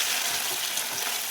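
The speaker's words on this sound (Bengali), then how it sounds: "এবার কড়াইতে তেল গরম করে মাছটাকে ভেজে নিচ্ছি।" Fish rubbed with salt and turmeric frying in hot oil in a wok, giving a dense, even sizzle that stays loud and close without a break.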